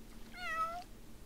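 A single short cat meow from The Sims 4, close and clear, rising and falling over quiet game ambience.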